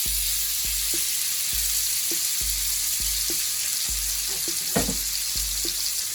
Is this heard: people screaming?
no